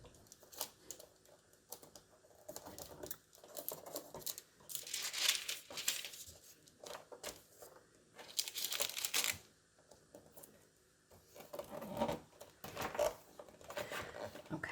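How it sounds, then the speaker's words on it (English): Tape pulled and pressed down onto a Cricut cutting mat, soft crinkling and peeling bursts scattered in short bouts, quiet and close. "I'm going to tape down one side first."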